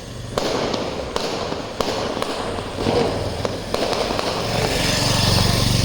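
Diwali firecrackers and fireworks go off outdoors at night in a steady barrage, with sharp loud bangs and crackling bursts over a continuous rumbling background.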